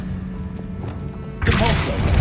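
A Confringo explosive spell from Hogwarts Legacy erupts halfway through as a loud, dense burst that keeps roaring to the end, following a quieter stretch of game music and ambience.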